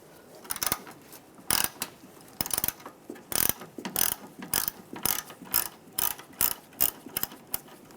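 A ratchet with a 10mm socket works a bolt loose on a 1998–2010 Volkswagen Beetle wiper motor, giving close, crisp clicking bursts in an irregular back-and-forth rhythm with short pauses between strokes.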